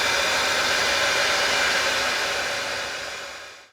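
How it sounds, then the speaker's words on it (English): A heat gun running on a low setting blows over Heli tape on a bike frame, a loud, close, steady airy whoosh like a hairdryer that cuts off abruptly at the end. "I'm just using my heat gun on a very low setting, about setting 3, which is about like a hairdryer"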